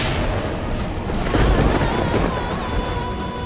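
A storm with thunder and strong wind roars steadily, with a broad rumbling wash that swells in the middle, loud and continuous with no voices.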